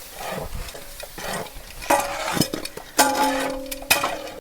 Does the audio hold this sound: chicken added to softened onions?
yes